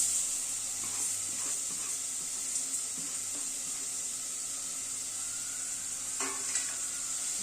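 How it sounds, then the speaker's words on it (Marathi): Onion, dry coconut, sesame, cumin, coriander seeds and whole spices fry gently in oil for a Kolhapuri vegetable curry, a soft continuous sizzle with faint stirring taps underneath. "सर्व तेलात छान परतून घ्यायचं."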